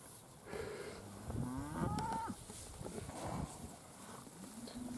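Several cows moo loudly nearby, their long low calls overlapping one after another in an open outdoor setting.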